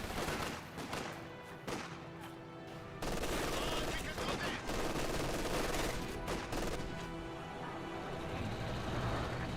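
Sustained suppressing gunfire in the World War II strategy game Company of Heroes 2, with dense bursts and sharp volleys of rifle and machine-gun shots over vehicle rumble, loud and continuous throughout.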